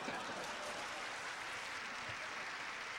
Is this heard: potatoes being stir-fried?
no